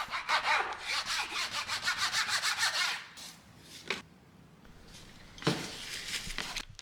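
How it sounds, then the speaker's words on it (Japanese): A leveler is dragged back and forth over wax filler packed into nail holes in a floor, giving rapid, close scraping strokes that pause, return briefly, then start again more softly. "レベラーで平らにします。"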